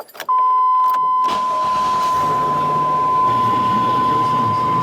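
A 1998 Chevy pickup cranks over and starts, with a short churn followed by the engine settling into a steady idle under a continuous door warning chime.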